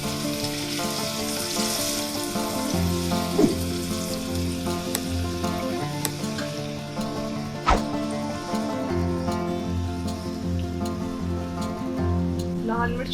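A tadka of chillies, mustard seeds, cumin and crushed garlic sizzles loudly and steadily in hot oil, with crackling pops and a few sharp clinks of a utensil against the pan.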